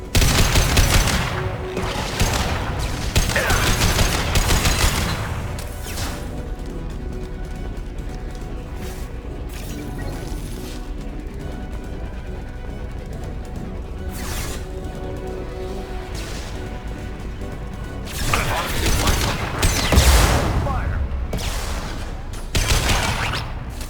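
Automated turret gunfire in the video game Mass Effect 2: dense, continuous rattling bursts with louder surges near the start and end, mixed with mechanical game effects and no speech.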